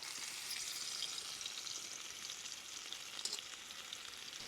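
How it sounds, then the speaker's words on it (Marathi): Garlic hits two spoonfuls of hot oil in a pan and fries with a continuous, crackling sizzle that stays steady and fairly close, with no voices over it. "दोन चमचे तेल वतते आता लसूण टाका"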